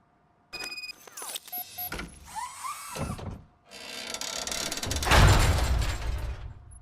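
Mechanical whirring and grinding as a car is lowered by a lift mechanism in RoboCop: Rogue City, starting with clicks and motor whines, then a descending whine and a loud clanking, rumbling rush near the end.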